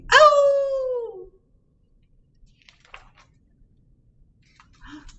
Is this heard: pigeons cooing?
no